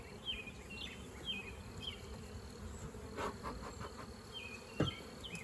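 Honeybees droning around an open frame from a hive started from a caught swarm, a continuous close buzz with individual bees zipping past, plus faint chirps and a brief knock near the end.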